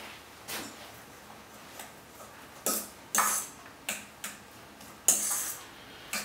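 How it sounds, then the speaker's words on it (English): A fork works butter through mashed potato, giving soft, sparse clicks and taps against the bowl that grow a little sharper toward the end, close and quiet with no talk. "we add 1 ounce or 30 grams of butter and we just fork that through our mash"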